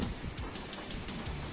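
Heavy rain from Typhoon Odette (Rai) pours and patters steadily, driven in gusts by wind, a dense close hiss with no talking.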